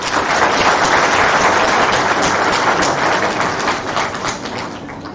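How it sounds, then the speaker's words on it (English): Audience applause in a medical lecture theatre, a dense sustained wash of many hands clapping, loud and steady, then easing off slightly near the end, with no talking. "A round of applause for sir."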